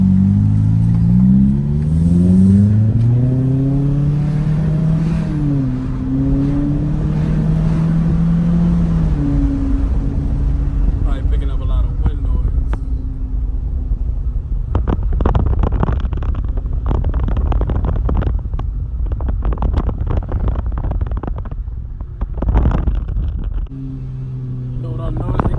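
Gurgling exhaust from a Mitsubishi Lancer with its muffler deleted, a steady low rumble with rising and falling revs early on, then choppier bursts toward the end; no talking.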